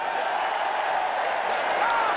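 Cricket crowd in a stadium at an India versus Australia Test match applauding a boundary, a broad steady wash of clapping and crowd noise with some speech mixed in.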